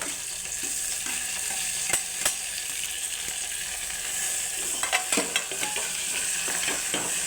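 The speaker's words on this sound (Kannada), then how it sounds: "ನೋಡಿ ಇವಾಗ ಚೆನ್ನಾಗಿ ರೋಸ್ಟ್ ಮಾಡಬೇಕು." Curry leaves, onion and tomato fry in a pan, hissing with a continuous sizzle while a utensil scrapes and clicks against the pan in scattered strokes, no talking.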